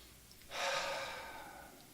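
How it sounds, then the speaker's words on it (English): A single slow, deep breath is drawn in during a guided relaxation exercise, a soft airy rush that swells and then tapers off gradually, heard alone in a quiet room. "So, right now, I'd like you to breathe a couple of times."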